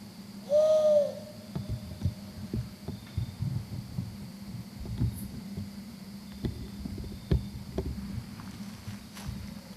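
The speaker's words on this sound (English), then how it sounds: "it's an owl" An owl gives a single clear hoot at night outdoors, followed by faint rustling, low hum and scattered soft thumps.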